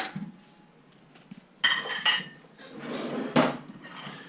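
Fork and plate clinking in a kitchen as a freshly cooked omelette is served, with a few sharp metallic clinks and clatters in short bursts, fairly close and moderately loud, with no talking.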